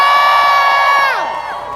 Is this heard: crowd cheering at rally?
yes